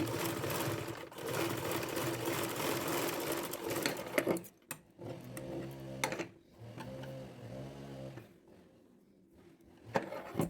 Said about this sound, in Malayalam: അങ്ങനെ രണ്ട് ഭാഗത്തും സ്റ്റിച്ച് ചെയ്ത് കഴിഞ്ഞു